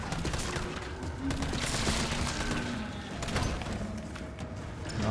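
Sustained gunfire from Resident Evil 3 in a hospital setting, a dense run of rapid shots with sharp cracks layered over a low rumble, loud and continuous for several seconds.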